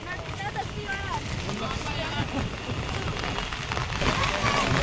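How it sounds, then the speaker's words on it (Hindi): Heavy rain and strong, gusting wind over the Ganges ghats at Haridwar make a dense, continuous wash of noise, with faint, indistinct voices underneath. "भारी बारिश के साथ साथ लगातार तेज हवाएं भी बह रही है।"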